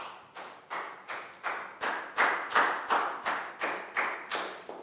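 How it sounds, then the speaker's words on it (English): A classroom gives a round of applause for a pupil: about a dozen evenly spaced, rhythmic group claps, each with a sharp attack and a short decay, close and moderately loud, with no talking. "Big round of applause for Down."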